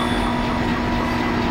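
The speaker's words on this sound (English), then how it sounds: "Retrieving damaged tram car." A damaged tram car being retrieved in the Dead Space video game gives a steady, loud rumbling drone with a low mechanical hum and rail-like rolling noise, continuous and unbroken.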